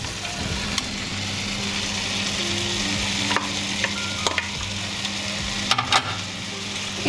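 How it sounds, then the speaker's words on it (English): Tomatoes and mixed vegetables sauté in a hot pan, a steady close sizzle broken by a few sharp scrapes and clinks of a spoon stirring, with no voices. "We want to saute the vegetables together"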